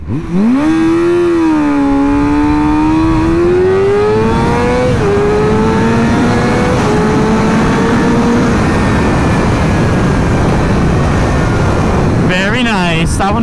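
A sport motorcycle engine revs hard accelerating uphill, climbing steadily in pitch through the gears, loud and close, with a brief shift near the end.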